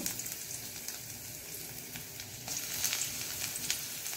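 Chopped garlic and urad dal frying in hot oil for masala dosa, a steady close sizzle and crackle throughout that grows a little louder partway through, with no voices.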